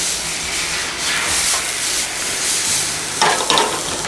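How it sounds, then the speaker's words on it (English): Onions searing in a very hot pan give a steady, broad sizzle and hiss, with a couple of brief louder crackles as they are stirred. "we're going to let the onions go until they're translucent"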